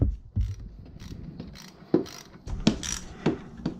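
Ratchet and socket working a bolt loose while installing ZZ rear-set motorcycle footpegs, giving a series of sharp metallic clicks and clunks at irregular intervals, close and fairly loud, with no talking.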